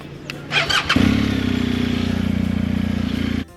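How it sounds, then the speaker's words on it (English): A motorcycle's kickstand clanks up with some light clatter, then the engine turns over and settles into a steady, rumbling idle for a few seconds before stopping, close by with no talking. "I also love the sound of raising the kickstand and turning the bike over."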